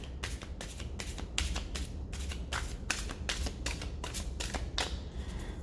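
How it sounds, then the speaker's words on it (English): A deck of tarot cards is shuffled by hand, giving a steady series of crisp riffling flutters and soft slaps, close and clear with no talking. "I'm just making sure that I am shuffling it so I won't get the same cards unless they need to come out."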